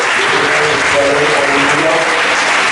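A church congregation at a fasting and prayer gathering breaks into dense, sustained applause, a steady wash of many hands clapping, with faint voices mixed in.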